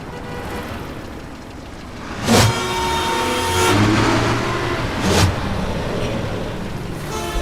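Cars pass along a diverted road near a convent, engines humming steadily with a few louder whooshes as vehicles sweep close by, no voices over them.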